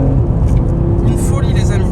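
An Audi RS3 8Y under full-throttle acceleration, a loud, steady engine roar heard from inside the car, with voices talking over it.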